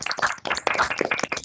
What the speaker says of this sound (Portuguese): fizessem uma salva de palmas para o professor Tiago pela apresentação